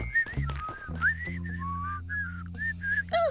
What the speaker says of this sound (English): whistling casually